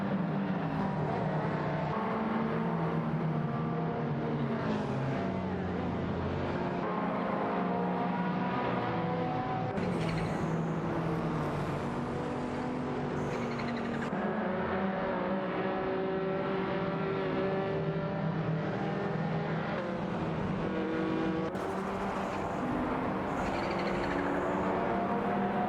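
Race cars lapping in an AI-driven racing video game, a dense continuous drone of engines rising and falling in pitch with overlapping revs, steady and fairly loud throughout.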